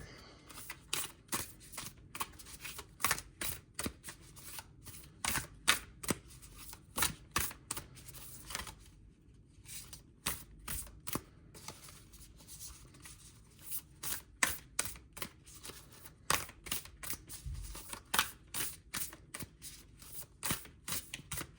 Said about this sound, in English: shuffle the cards in this particular way